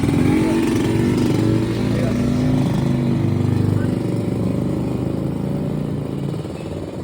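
Honda Astrea Grand motorcycle engine running close by, a loud steady rumbling putter that holds level and eases slightly toward the end, with a voice talking over it.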